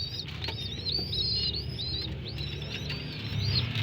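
Young racing pigeons about eleven days old chirping in their loft, a run of thin, high, repeated peeping calls close by, over low cooing and murmuring background noise.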